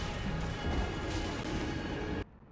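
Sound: fireworks booming outside

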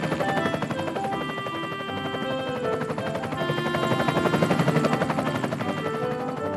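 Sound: cartoon helicopter flying

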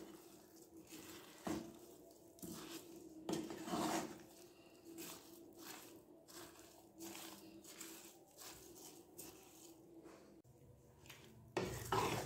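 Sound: mixing vegetable pickle with a wooden spoon

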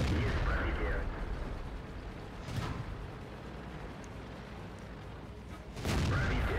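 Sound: tank shots bouncing off KV-13 armor, from video game World of Tanks

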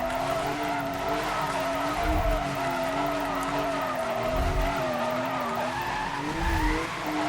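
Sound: Porsche tires skidding while drifting in Need for Speed: Most Wanted video game

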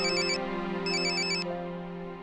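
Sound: phone ringtone, incoming call

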